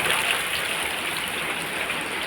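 Rain falling in a village, a steady close hiss of water pouring down with no pauses or voices.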